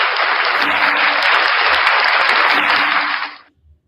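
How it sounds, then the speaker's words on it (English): A crowd claps in a full, dense round of applause that holds steady for about three seconds, then quickly fades out. "round of applause for Van Valiant."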